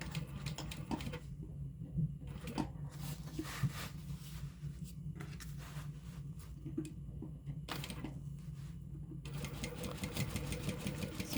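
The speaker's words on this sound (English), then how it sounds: "Just sewing that lining closed on that one side, it looks like, is what we're doing." A sewing machine stitching a Bartleby sling's lining closed, a faint close mechanical whir with rapid needle clatter in bursts and short pauses between runs.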